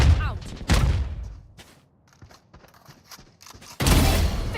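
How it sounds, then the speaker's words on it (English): Swarm grenade going off in the video game Valorant: a burst at the start, a sharp crack, then a stretch of scattered small mechanical clicks and pops, ending in a loud sustained crackling burst. "Swarm grenade out."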